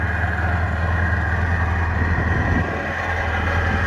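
A Yamaha engine with its factory water box and exhaust idles steadily and quietly after starting, a constant low hum heard close with no talking and no clear start-up surge.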